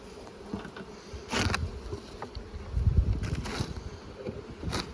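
Steady insect buzzing from many honeybees in a hive box, with occasional louder passes of individual bees close by and some low rumble underneath.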